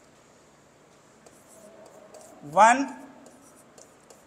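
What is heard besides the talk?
writing on a board while teaching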